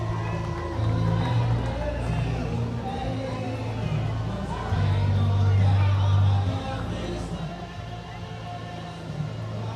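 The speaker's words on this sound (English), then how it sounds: "roar of the crowd" A crowd roars and cheers along Coast Highway during the 2017 Oceanside Independence Day parade, a broad sustained swell of outdoor voices rising and falling, with a closer voice talking through it.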